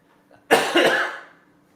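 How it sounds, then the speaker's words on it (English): A single harsh, lingering cough bursts out close and fairly loud after a near-silent start, rasping for under a second before fading, from someone recovering from pneumonia. "a lingering cough that's lasting forever"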